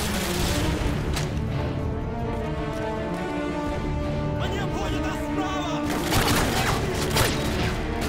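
Turret gunfire in Call of Duty Modern Warfare 2, a dense and continuous game battle din of shots and booms that surges louder near the end, with a voice speaking briefly over it.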